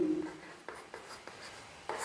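A marker or chalk scratches across a classroom board in a run of short strokes with brief gaps, close but faint, while a teacher's voice speaks softly underneath.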